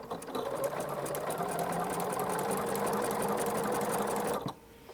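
A sewing machine with a braiding foot stitches over elastic in one continuous, loud, close burst of rapid whirring that stops abruptly near the end.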